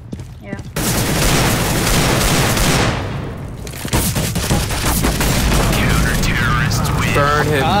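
Rapid bursts of automatic gunfire and heavy booms fill a CS:GO match, loud and nearly continuous, with players' voices talking over the shooting.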